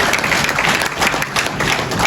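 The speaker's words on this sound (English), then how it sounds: "Please give our panelists a round of applause for those answers." Loud, dense applause from a conference audience for a panel, a steady wash of clapping filling the whole moment with no speech over it.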